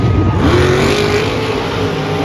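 A monster truck engine at the Monster Jam World Finals refires and revs, a loud close roar that climbs in pitch and then holds at a high drone.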